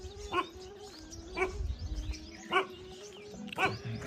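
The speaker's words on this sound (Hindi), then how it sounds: "कुत्ता भौंक रहा है," Large dog barking at an ashram near an old Narmada ghat: four evenly spaced barks at a steady pace, somewhat distant, with birds chirping and low rumbling noise beneath.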